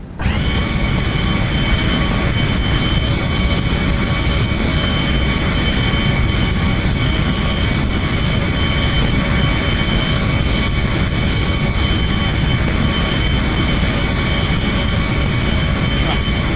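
A Messerschmitt Me262 jet fighter in BeamNG roars steadily through its takeoff run, a loud, constant engine drone with sustained whine holding for the full stretch without any voices.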